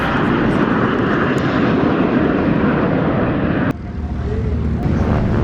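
Jet aircraft of the Patrouille de France, the French Air Force aerobatic team, taking off at full strength, a loud continuous engine roar that cuts abruptly partway through to a quieter, rising jet noise.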